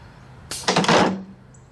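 A model F-18 landing gear retracts with a restrictor fitted, giving a short pneumatic hiss that builds and ends in a sharp mechanical slam, close and loud, then quiet.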